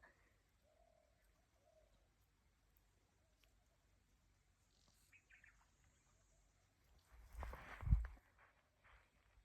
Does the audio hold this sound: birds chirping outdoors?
yes